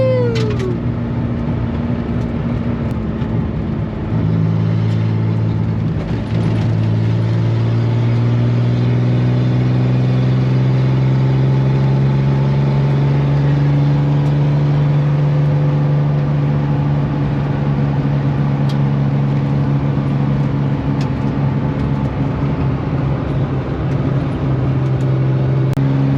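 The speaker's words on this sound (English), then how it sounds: "Driving a Corvair" A Chevrolet Corvair drives steadily on the road, its engine humming close and loud inside the car with gear-shifting rises and falls in pitch throughout, no talk.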